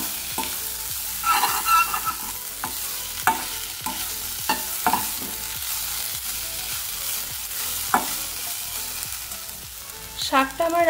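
Fenugreek greens with beans and fried eggplant frying in a pan, a steady sizzle broken by repeated sharp scrapes and clacks of stirring, close and fairly loud, no voices.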